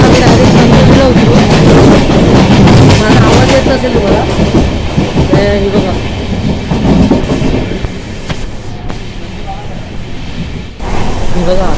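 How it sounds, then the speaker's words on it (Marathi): A passenger train on the Konkan route rolls steadily along, its wheels keeping up a loud, continuous clickety-clack with rumbling carriage noise throughout and faint voices in the background. "फायनली आता ट्रेन सुरू झाली आमची"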